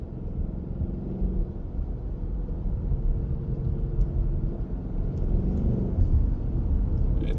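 A 2026 Ford Mustang GT V8 with a six-speed manual pulls hard in third gear, a steady low rumbling engine drone heard from inside the cabin, continuous and fairly loud with no talk over it.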